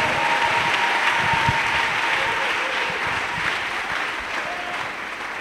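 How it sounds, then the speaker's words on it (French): A church congregation at a French-language worship service applauds and cheers for Jesus Christ, a loud, sustained wash of clapping with faint voices mixed in, steady from start to finish. "Un grand acclamation pour le Seigneur Jésus-Christ."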